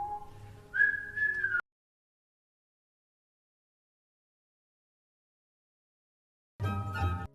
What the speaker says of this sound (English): They heard him whistling happily in the hallway as he waited